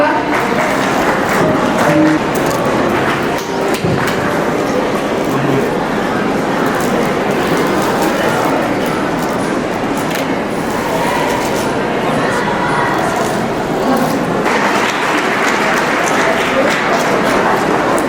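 Sustained audience clapping at a school farewell event, a thick, loud wash of hands that continues throughout with voices and cheers mixed in.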